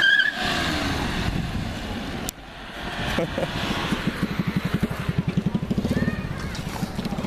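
An Audi car engine idling and revving close by in a street, with a rough pulsing chug building over several seconds while people talk nearby.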